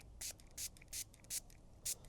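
Five short hissing sprays from a trigger bottle onto a headlight restoration polishing pad, evenly spaced and close, with quiet pauses between each burst.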